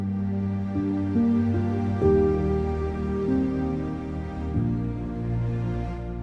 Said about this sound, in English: today we will create this piano track